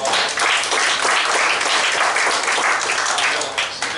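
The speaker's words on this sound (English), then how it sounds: "Let's give him a big round of applause." Sustained audience clapping at a community meeting, loud and dense throughout, a broad even wash of hands with no talk over it.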